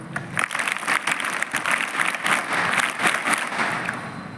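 School students clapping together in a hall, a loud crowd of hands with a slightly rhythmic, pulsing pattern running throughout, close and continuous without talk.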